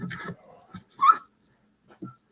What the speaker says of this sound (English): And you hear my puppies.